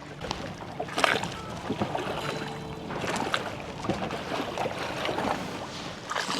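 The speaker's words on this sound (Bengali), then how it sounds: "আর জলের আওয়াজটা তোমাদেরকে শোনাচ্ছি দেখো কি সুন্দর লাগছে" Water laps and splashes softly around a hand-pulled rowboat out on the Maithon Dam reservoir, with irregular close gurgles and light wind.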